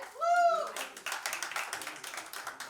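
Audience at a Bollywood song launch event claps after a voice speaks briefly, the clapping moderate and somewhat sparse, with individual claps audible across a few seconds.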